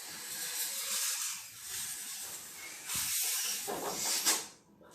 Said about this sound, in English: now try to blow this balloon.